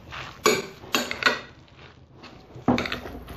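A spoon scraping and clinking against a bowl while mixing a fresh kashar cheese and olive oil filling, a few distinct knocks separated by softer stirring, close and fairly quiet.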